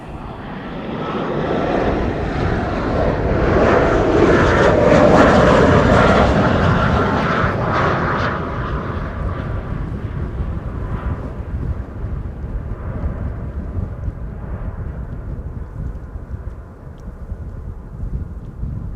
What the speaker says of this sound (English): Embraer 190 arriving from Humberside, which I expect is somewhere over there,